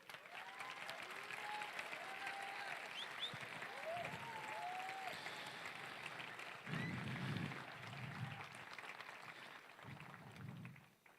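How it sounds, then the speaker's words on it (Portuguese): A church congregation at a pastoral ordination service applauds in a sustained, dense wash of clapping. Faint voices and cheers are mixed in, along with a few low thumps later on. "eu quero que toda a igreja aplauda-os"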